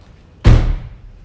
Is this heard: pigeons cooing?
no